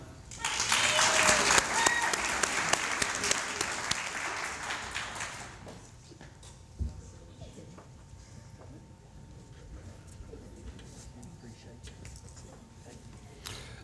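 Loud applause for employees receiving 5-year service awards at a service awards banquet, dense clapping for about six seconds that fades to a murmur of room noise and faint chatter, with a single thud midway through.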